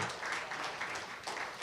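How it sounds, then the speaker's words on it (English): An audience applauds at a live comedy show, a steady wash of many hands clapping close by, with no voices over it. "So give them a round of applause."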